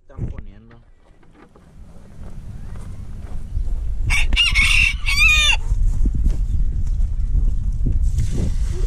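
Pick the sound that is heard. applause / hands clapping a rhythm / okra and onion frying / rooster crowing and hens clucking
rooster crowing and hens clucking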